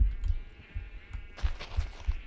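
Minecraft sheep bleat from a sheep farm fenced with spruce fences. Several short, nasal bleats come at uneven intervals, nearby and fairly loud, with faint crunching steps around them.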